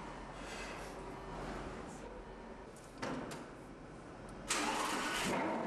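A supercar engine starts with sharp bursts of exhaust roar, settling into a loud, steady rumble alongside a constant background hum.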